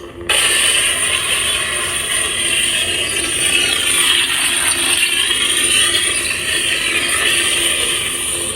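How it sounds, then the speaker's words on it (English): A lightsaber blade lock-up effect from a Neopixel saber with a crystal chamber: a steady, loud crackling electric buzz with a sustained hum that runs unbroken for several seconds without talk. "Blade lock up."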